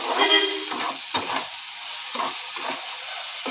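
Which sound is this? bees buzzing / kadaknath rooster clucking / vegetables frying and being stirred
vegetables frying and being stirred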